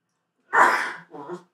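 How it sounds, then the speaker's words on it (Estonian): A single sharp human sneeze bursts out loud and close, followed by a softer trailing exhale or second breathy sound, with silence before it. "Ka aevastused."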